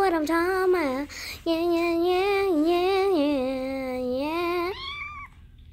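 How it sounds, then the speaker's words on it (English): A cat meows loudly and at length, a drawn-out wailing call with a short break partway through, then trailing off. No one speaks. "Don't listen to the cat trying to ruin my music"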